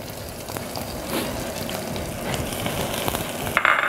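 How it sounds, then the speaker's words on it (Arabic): Onion, carrot and celery sizzle in a hot pan in a TV kitchen, a steady crackling fry with light stirring clatter near the end and no speech. "احط الثلاث حاجات مع بعض اللي هم الاولانيين، بصل جزر كرفس"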